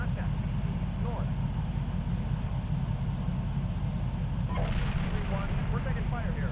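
Incoming fire in the Steel Beasts Pro PE tank simulator: a heavy, steady low rumble of distant artillery and gunfire, with faint muffled shots and a dropout in the middle, under a constant noisy background.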